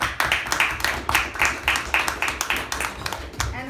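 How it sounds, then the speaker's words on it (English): A small group claps in a steady, even rhythm, the claps close and crisp for a few seconds. "a big round of applause to her"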